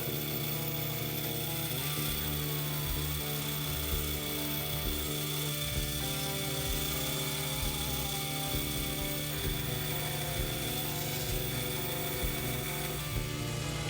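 A power tool cuts a wooden board to the Telecaster-style shape of a guitar body, a steady droning motor whine holding throughout with small bursts of cutting and no talk.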